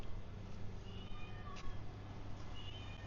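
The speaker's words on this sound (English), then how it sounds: "Is that a cat noise?" A cat meows faintly a few times from somewhere near a building in Kathu, Phuket, Thailand, its thin cries rising above a steady low hum and background street noise on a morning walk.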